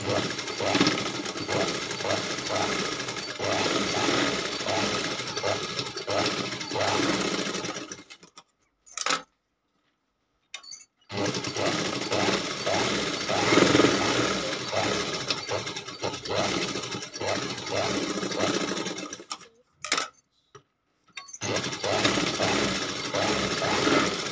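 A sewing machine stitches a blouse with a steady, fast, buzzing run. It stops twice for a few seconds of silence before starting again, close and at moderate volume.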